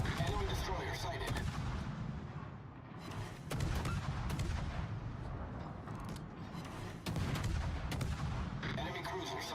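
Naval artillery salvos and gunfire from warships in the video game World of Warships, with loud repeated booming volleys filling the whole stretch and no pause.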